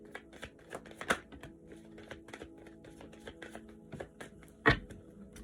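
A deck of love angel oracle cards is shuffled up close in a quiet room, giving soft, uneven rustling and light clicks with a sharper slap near the end.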